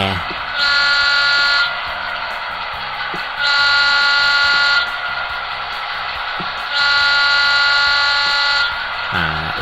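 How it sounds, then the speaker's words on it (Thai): An HO-scale SW1500 model locomotive's horn sounds in three sustained blasts separated by pauses, loud and close, over a steady mechanical rumble with occasional clicks. "วีดหรือเสียงแตร"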